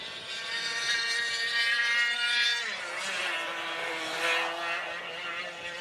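Several race cars of the Daniel Ricciardo Series circle the Little Rissington track, engines droning loudly and steadily, with a passing car's pitch sweeping down as it goes by, no talk over it.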